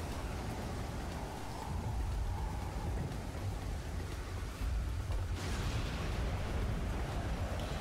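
Steady, dense rainfall drums down on an outdoor garden with a deep, continuous rumble of thunder beneath it, growing slightly heavier near the end; no one speaks.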